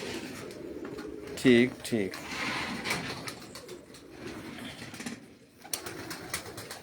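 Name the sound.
Pipla breed pigeons cooing on a rooftop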